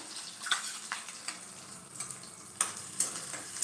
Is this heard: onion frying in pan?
yes